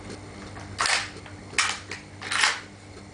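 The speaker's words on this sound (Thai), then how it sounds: "เอาเป้าขึ้นครับ แล้วก็ยิงครับ" Three sharp BB gun shots fired at a target, evenly spaced about a second apart, each a loud crack over a low background hum.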